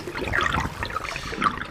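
Cartoon water rushing and gurgling as it drains away into a house, a short, bubbly trickling swirl with liquid splashes, heard alone without talk.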